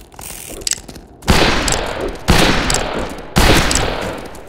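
Gunfire in the western shooter game Fistful of Frags, three loud, sharp blasts spaced about a second apart, each followed by a short ringing decay, with fainter metallic clicks in between.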